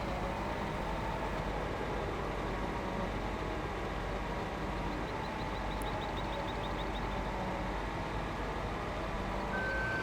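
Feed mixer running on a tractor in Farming Simulator 2015, a steady low droning engine hum with a short run of faint beeps midway.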